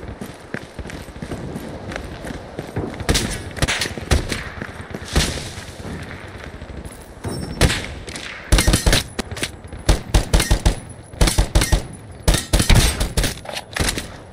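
Gunfire in the mobile shooter Lost Light comes in scattered single shots and rapid bursts, sharp and close, with quicker clustered volleys toward the end over a constant background of game ambience.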